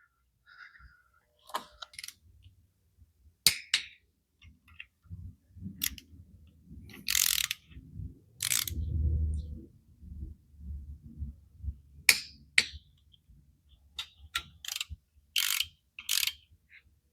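Ratchet torque wrench tightening crankshaft main cap bolts during a short block engine assembly, scattered clicking ratchet bursts and low clunks in a quiet garage, with no speech.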